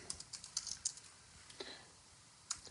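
Quiet, irregular clicks of typing on a computer keyboard, a few scattered keystrokes in short bursts with pauses in between, alone in a calm room.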